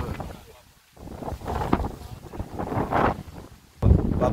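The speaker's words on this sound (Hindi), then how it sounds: "इधर से ठंडी ठंडी हवा चल रही है" Cool wind blowing outdoors in a village on a cloudy morning before rain, rushing against the microphone in swelling gusts with brief lulls and a sharp burst near the end; a voice may be faintly mixed in.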